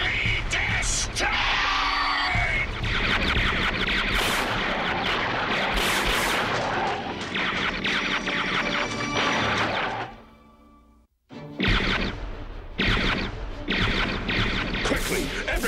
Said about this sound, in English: Fire! And continue firing until Optimus Prime and the Autobots are totally destroyed!